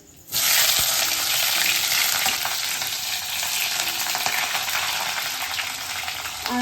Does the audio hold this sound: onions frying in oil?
yes